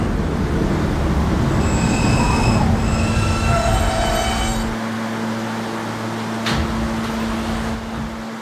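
An R160A subway train on the K service runs through a station in the Roblox game PTA, with a steady loud rumble, a sustained low hum and high whining tones, and a brief squeal near the end.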